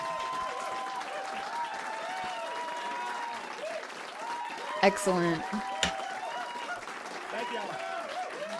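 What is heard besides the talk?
audience applause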